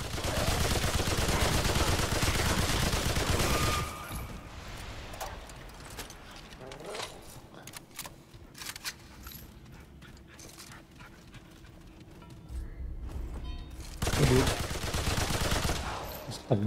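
Weapon fire from a gun in the Remnant 2 video game (Awakened King DLC) comes in rapid loud bursts of shots at the start and end, with quieter game action between.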